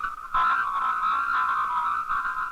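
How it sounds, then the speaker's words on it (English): Compressed, squeezed speech sent over a telephone line comes through as a continuous garbled, buzzing, croak-like tone that starts abruptly and stays fairly loud, with no intelligible words. "A squeezed message sounds like this."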